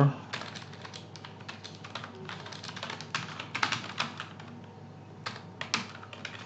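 Rapid typing on a computer keyboard, a dense run of close, crisp key clicks with brief pauses, under a soft background hum.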